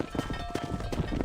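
Horse hooves clip-clopping in Red Dead Redemption, a few quick soft hoofbeats over a busy background, close and moderately loud.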